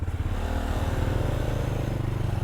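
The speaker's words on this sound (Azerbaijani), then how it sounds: "Niyə elə qaz verirsən qaqa?" A delivery courier's motorcycle engine rumbles close by, with a low, pulsing throb that holds steady and loud throughout and shows only slight throttle swells.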